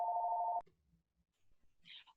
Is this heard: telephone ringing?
yes